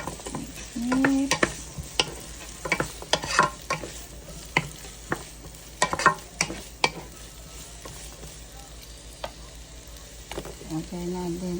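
Pinakbet with tofu being stirred in a sizzling pan, a soft steady fry under a run of sharp spatula scrapes and taps against the metal, close up, the clatter thinning toward the end.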